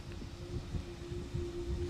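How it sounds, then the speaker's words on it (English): Wind sings through a fence at Kilt Rock on the Isle of Skye, a steady hollow, whistling tone held beneath low, rumbling wind buffeting the microphone. "that's the sound of this fence"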